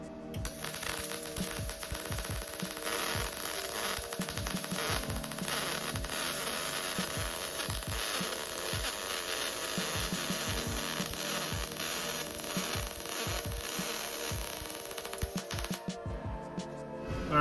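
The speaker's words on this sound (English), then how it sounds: "Now for material, we'll be welding this 16 gauge aluminum." Arccaptain MIG250 spool gun welding 16 gauge aluminum, a steady dense crackling buzz that runs continuously for most of the stretch before cutting off, close and loud.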